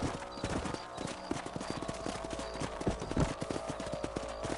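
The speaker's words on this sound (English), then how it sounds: "Let's get back on the horses and see what else is going on." Horse hooves clip-clop at a steady trot in the Western video game Red Dead Redemption, rhythmic and close, over a dense game soundscape.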